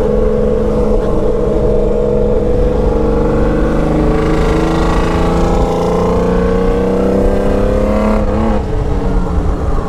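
A 1982 Honda CBX 1050 Super Sport six-cylinder motorcycle fitted with a custom Atalla 6-into-1 exhaust revs loudly and close, its tone rising and falling in long sweeps that hold for the full stretch.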